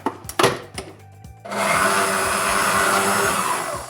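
Cheesecake batter with flour and starch beaten by an electric mixer, a few knocks at first, then a steady loud whirring drone that runs on alone.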